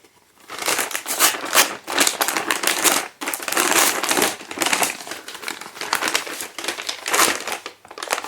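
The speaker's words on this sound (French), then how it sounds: "Je fouille mon enveloppe jusqu'au bout" Hands rummage through a paper advent calendar envelope, producing loud, close crinkling and rustling in repeated bursts with brief pauses between them.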